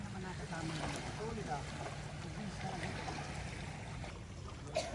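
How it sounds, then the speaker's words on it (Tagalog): Steady churning and rushing water from an arriving boat, with a low engine-like rumble underneath, people talking faintly over it. "Ala, lumakas ang lumakas ang tubig. Dahil doon. Dahil sa dumating na bangka."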